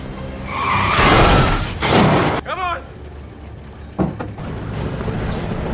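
A truck in a film chase slams into someone, heard as loud tyre skids and engine roar, then a sharp crash and squealing. It is dramatic and close, with other noisy action around it.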